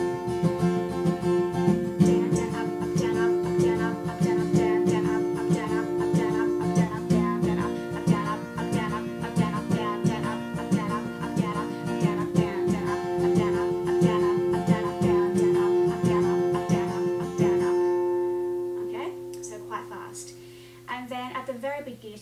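An acoustic guitar strums the chords of a song in a steady, rhythmic down-and-up pattern, full and continuous, then a final chord rings out and fades.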